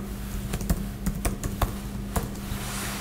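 Login password typed on a Samsung Series 5 550 Chromebook keyboard: a run of light, irregular key clicks, close and fairly quiet, with no talking.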